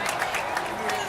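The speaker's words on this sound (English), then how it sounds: "Crowd getting into it as we get down to the red zone, the 5-yard line." Stadium crowd in Madden 18 as a football drive nears the goal line: a steady roar of cheering and applause with rhythmic swells, with a commentator talking over it.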